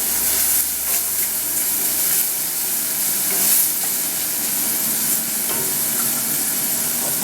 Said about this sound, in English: I'll cook up the bacon.